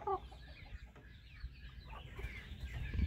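A Kelso gamefowl rooster and a brooding hen sitting on eggs give soft, low clucks in a steady, close series, with a slightly louder burst of clucking at the end and no talking.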